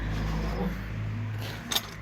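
Original wrench set from the toolbox of a 1953 Jawa Perak 250 Type 11 motorcycle, with faint metallic clinks over a low background hum and a brief sharper jingle of keys near the end.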